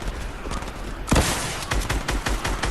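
Distant gunfire in a battle royale game: a continuous spatter of rapid shots with one heavier close burst near the middle, all under general game ambience.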